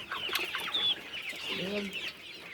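Young chicks suffering from flu, with sore eyes, cluck and chirp close by, a steady flock murmur with one hen giving a brief lower cluck near the end.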